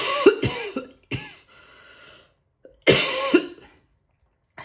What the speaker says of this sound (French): il suffit que je fasse une vidéo pour que je tousse